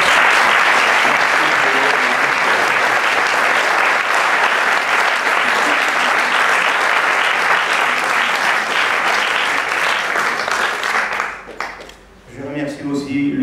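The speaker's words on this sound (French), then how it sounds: "je demande au grand public qui est ici d'applaudir très fort ceux qui ont fait exactement ce festival" A festival closing-ceremony crowd breaks into loud, dense, sustained applause that fills the room, fading near the end as a voice begins to speak.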